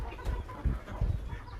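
Farm roosters and a few hybrid country roosters cluck in a small hobby farm, a few low, muffled bursts close by against quiet background noise.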